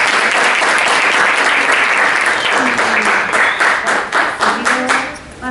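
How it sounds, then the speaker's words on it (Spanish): Classroom audience of students applauding for a visiting writer, loud dense clapping that holds steady and then thins into scattered individual claps, with a faint voice near the end. "Un aplauso para Cecilia"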